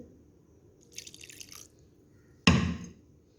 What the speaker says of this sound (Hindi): थोड़ा और पानी ऐड करूँगी